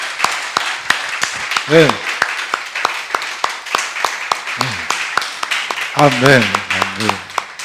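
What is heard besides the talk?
congregation applauding in church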